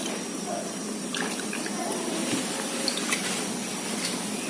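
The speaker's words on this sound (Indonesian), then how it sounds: "Lalu kita siram kuah cukonya." Cuko, the sour dipping sauce, is poured over pempek fish cakes in a bowl, a soft close liquid splashing and dripping that carries on quietly throughout.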